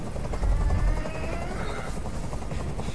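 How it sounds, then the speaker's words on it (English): A steady, low helicopter rotor drone with a rhythmic thudding pulse runs throughout, fairly loud and continuous, in the video game Detroit: Become Human. "I can't stand that noise anymore. Tell that helicopter to get out of here."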